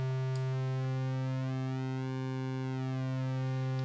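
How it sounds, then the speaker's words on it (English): Korg MS-20-V software synth oscillator holding a steady buzzy tone while its pulse width is swept, the timbre shifting and phasing continuously over several seconds, moderately loud and alone. "And that sound is the manifestation of pulse width modulation."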